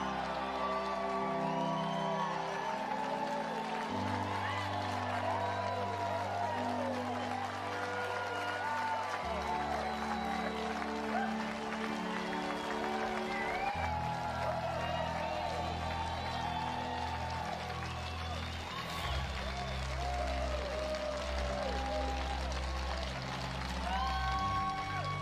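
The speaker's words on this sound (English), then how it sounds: "Give yourselves a round of applause." Seminar audience applauding and cheering for Les Brown, steady dense clapping with whoops that keeps going loud and unbroken for about twenty-five seconds, alongside background music.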